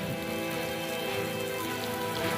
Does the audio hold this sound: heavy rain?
yes